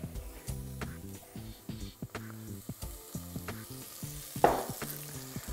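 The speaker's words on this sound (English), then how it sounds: "I'm just gonna give it a quick stir, get all that nicely mixed in as well" Onions with cumin and ground coriander are stirred in oil, giving a quiet sizzle under repeated scraping and clattering strokes from the spoon, plus a brief louder knock near the end.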